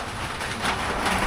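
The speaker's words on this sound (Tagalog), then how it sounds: "Ay, lumakas ulan." Heavy rain pouring steadily outdoors, a dense, close hiss that swells slightly louder partway through, with no voices.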